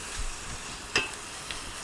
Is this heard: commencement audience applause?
no